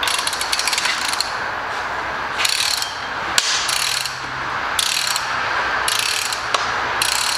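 A BMW N20 turbo engine being reassembled gives off steady mechanical ratcheting clicks from its camshaft variators, which have gone dry of oil. The ticking repeats in regular bursts over a continuous close whir, with no talk.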